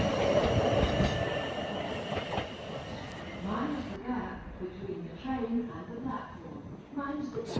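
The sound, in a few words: South Western Railway class 158 train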